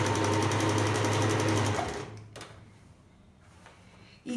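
A sewing machine stitches a seam on fabric for shorts in a rapid, steady mechanical whir close by, then stops abruptly and leaves quiet handling sounds.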